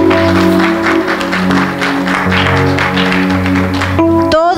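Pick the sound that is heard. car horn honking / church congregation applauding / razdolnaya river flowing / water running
church congregation applauding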